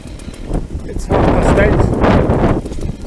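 Wind gusts buffeting a microphone outdoors in a garden during fairly hard rain, a rough rushing roar that swells and surges in waves, loud and close throughout.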